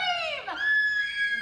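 A woman lets out a shrill, sustained scream in horror-movie style at a Universal Studios Hollywood special effects show, close and loud, with the pitch dipping briefly and then holding high.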